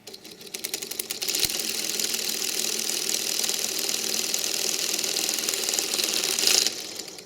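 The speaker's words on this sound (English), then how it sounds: "That's nice. Isn't that lovely? A wee electric motor." A small homemade electric motor spins with a steady, fairly loud buzzing whir that holds even for several seconds and then cuts off near the end.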